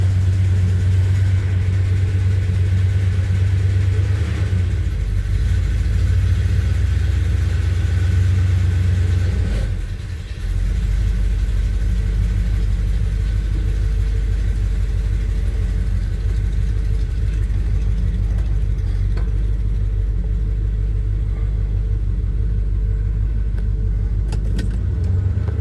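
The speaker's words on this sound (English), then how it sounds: "I'll let it run here for just a minute." A 1978 Chevy C10 Cheyenne short-bed pickup engine idles steadily after warming up, a loud, continuous low rumble with a slight dip around the middle, otherwise unbroken and with no talking.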